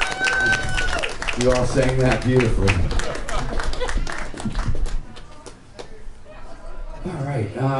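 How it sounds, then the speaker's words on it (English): Audience applause and scattered clapping from a gathering at a campaign event in Northport, rising under a man's speech, fading midway, then picking up again near the end. "Give yourself a round of applause."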